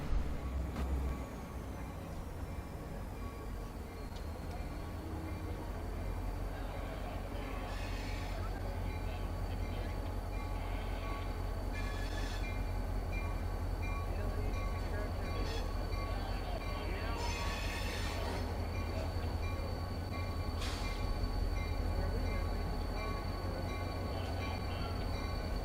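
Buckingham Branch diesel locomotives pull out of a small rail yard and couple to a train, giving a steady, loud engine rumble throughout with brief metallic clanks and squeals near the middle, and faint voices at times.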